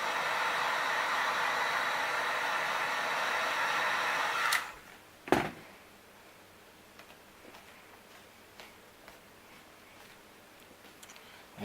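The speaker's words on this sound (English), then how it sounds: "Now this seam here in the middle, I'm going to go ahead and blast that with some heat." Heat gun blowing a steady hiss of hot air onto a crafted helmet seam for about four seconds, then switching off with a sharp click, followed by faint ticking and handling noises.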